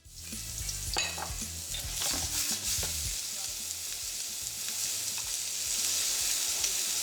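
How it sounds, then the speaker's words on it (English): Shallot, garlic and ginger stir-frying in hot oil in a wok: a steady, loud sizzle runs throughout, broken by repeated scraping stirs and the clatter of a utensil against the pan. "With a little more oil heated in the wok, in goes some shallot, garlic and ginger."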